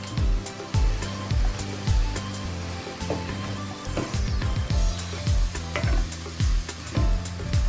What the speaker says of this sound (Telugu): పెరుగు వేసి బాగా ముక్కలకు పట్టించండి.